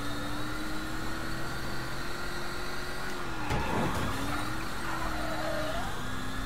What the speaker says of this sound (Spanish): Lo que más se hace es que este coche suena como un coche eléctrico.